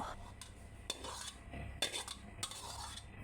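Stir-fried long beans with pork belly scraped from the pan onto a large serving plate, with a few sharp metallic clinks of utensil against cookware over a soft background, no talking.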